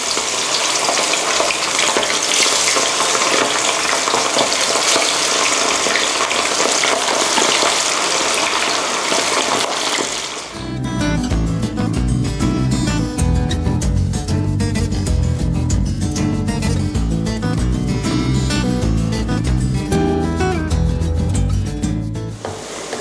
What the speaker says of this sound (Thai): ตอนนี้น้ำมันเริ่มร้อนแล้วนะคะคุณผู้ชมแล้วก็จะนำไส้ตันลงทอดนะคะ